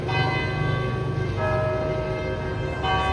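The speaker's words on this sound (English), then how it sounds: "Church bell." A church bell in Vietnam rings close by, its rich overlapping tones sustaining and restruck a couple of times over a short span.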